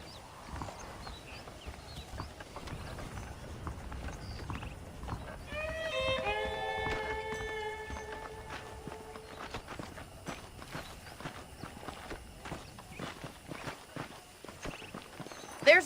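Saddled horses in the Red Dead Redemption video game walk with a steady, fairly quiet clip-clop of hooves, and a sustained tonal musical swell rises briefly in the middle.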